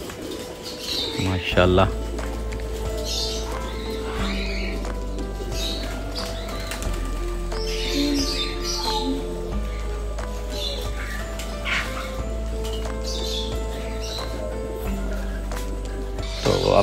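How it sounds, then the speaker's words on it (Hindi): Pigeons at a large fancy pigeon farm in Pakistan coo steadily, with wing flaps and scattered chirps close by, while someone speaks briefly over a constant low hum. "कुछ हमारे पास यहाँ पर भी कबूतर बैठे हुए हैं"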